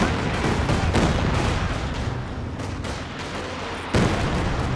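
Katyusha rocket artillery barrages pound away in Company of Heroes 2, a dense, continuous roar of overlapping blasts and crackling fire with sharper bursts near the start and just before the end.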